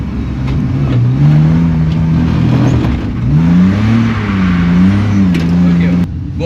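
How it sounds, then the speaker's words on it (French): A drift car's engine revs and accelerates loudly and close, its pitch rising and falling in sweeping waves for several seconds before cutting off, with a voice speaking over it. "Accélère, oh. Vas-y, mets un petit coup."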